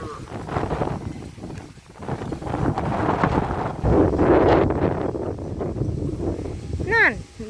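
Strong wind roars steadily across an outdoor microphone on a blustery, lightly rainy day, with gusts swelling midway and near the end while people talk over it.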